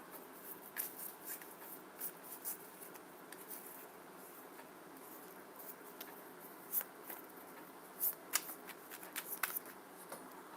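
A deck of tarot cards being shuffled by hand, with soft papery riffles and flicks that come in irregular bursts, close and quiet, with no voices.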